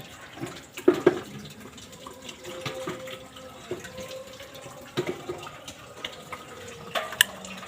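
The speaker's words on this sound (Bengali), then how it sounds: "আস্তে আস্তে ঢেলে দিলাম ছাঁকনিটা নিয়েছি ছাঁকনি দিয়ে ছেঁকে নিচ্ছি" Egg caramel pudding batter is poured slowly through a strainer, giving a soft, continuous trickle of liquid with a few small clinks of the strainer against the bowl.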